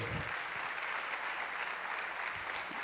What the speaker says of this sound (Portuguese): Você pode aplaudir esse Deus maravilhoso, grandioso?